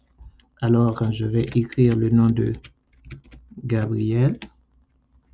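Typing on a computer keyboard while entering a name into an Excel spreadsheet, with light, scattered key clicks heard under someone speaking close to the microphone.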